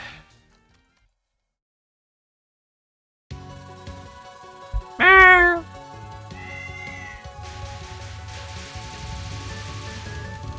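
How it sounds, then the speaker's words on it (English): A single clear cat meow from the Touhou 11 Subterranean Animism video game, rising and falling over about half a second, set against steady game music and sound effects after a short silence. "it's the only Touhou game that goes meow"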